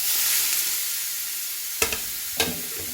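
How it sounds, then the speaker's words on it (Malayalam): Beetroot sautéing in oil in a kadai for kichadi gives a steady frying sizzle, with two brief sharp stirring clatters near the end. "ഒന്ന് എണ്ണയിലിട്ടിട്ട് ഒന്ന് വാട്ടിയെടുക്കാം"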